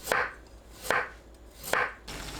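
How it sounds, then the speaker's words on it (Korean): Three evenly paced knife slices thinly cutting a carrot, each a crisp crunch landing on a board, with quiet pauses between. "당근도 얇게 썰어줍니다."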